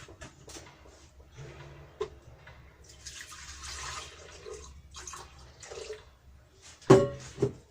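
Hot coffee, about eight ounces, pours steadily into a cup with a soft liquid trickle, ending in a brief louder splash near the close; quiet and close, no talking.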